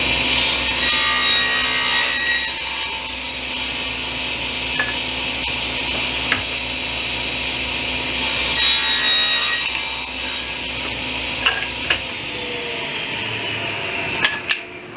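A wooden picture-frame piece being cut by hand in a miter jig, with steady, loud back-and-forth saw strokes running continuously at close range, then a few light knocks at the end.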